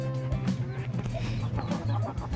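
Shamo hens cluck and murmur close by in a steady stream, with occasional louder squawks breaking through the continuous farmyard chatter.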